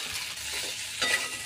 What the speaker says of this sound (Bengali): ভালো করে মশলার সাথে মিশিয়ে নেব